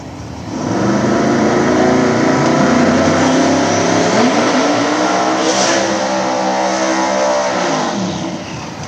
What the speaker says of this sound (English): Got the other Bloodbath car coming up, Matt